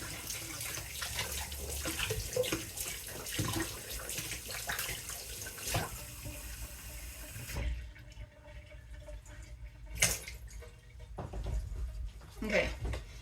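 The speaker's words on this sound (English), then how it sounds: "get my warm water out." Warm water running from a kitchen tap into a container, a steady hissing stream heard close up that stops partway, followed by a few clinks and small handling noises.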